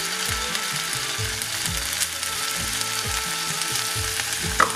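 Samosa filling with cashews, green peas and coriander sizzles in a pan while a spoon scrapes through it in a repeated low, rhythmic stirring pattern under a steady frying hiss.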